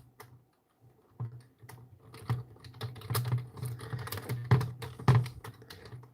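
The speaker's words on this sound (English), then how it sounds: "I can simply type it" Fingers type on a computer keyboard in uneven bursts of crisp, close key clicks that grow busier after a brief pause near the start.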